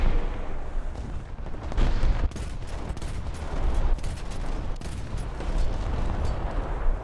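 Tank cannon fire in War Thunder from a ZSU-57-2 tank destroyer, heard as several heavy, booming blasts spread over a dense, rumbling battle din with no talk.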